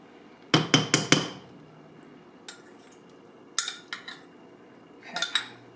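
A fork clinks sharply against a bowl while beating eggs for a Denver omelette, with a quick run of four strikes, a lone tap, then two more short clusters, close and clear in a quiet room.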